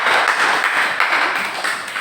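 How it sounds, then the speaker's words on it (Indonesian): Classmates in a school classroom clap for a fellow student after her presentation, a dense, steady patter of many hands filling the room for a couple of seconds with no talking over it. "Tepuk tangan untuk temannya."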